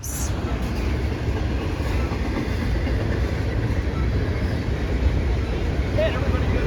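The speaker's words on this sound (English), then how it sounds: "this train was actually on the side track to let the other train pass" An Amtrak train rolls past on the track at Fullerton with a continuous, heavy rumble and faint rattling, loud and close throughout.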